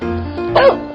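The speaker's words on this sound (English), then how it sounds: "dog." A dog in a 3D animal slide video game gives a single short, close bark near the end of a brief stretch of steady game music.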